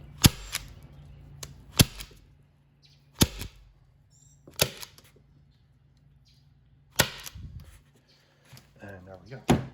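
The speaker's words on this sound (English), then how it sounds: "And then we're gonna put a staple in." Staple gun fastening carpet onto the hatch of a jon boat being converted to a bass boat, firing about six sharp, loud snapping shots spaced a second or so apart, with quiet handling noise between them.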